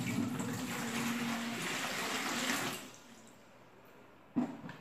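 One litre of water poured into a container for homemade bar soap, a steady splashing pour that lasts nearly three seconds, then quiet, with a brief knock at the end.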